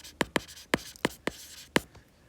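Pen strokes scratch on paper while a math problem is written out, six sharp quick scrapes in an uneven rhythm, close and clear with no voice.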